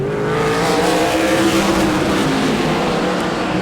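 Super late model race cars lap in qualifying at Auburndale, a loud, continuous engine roar with sustained droning tones shifting slightly in pitch, close and unbroken for the whole stretch.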